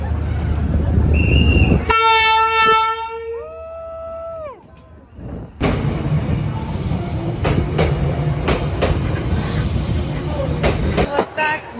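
A train horn blasts loudly, then the heavy rumble and clatter of railcars rolling past fills a street in Hanoi, Vietnam up close, with faint voices underneath.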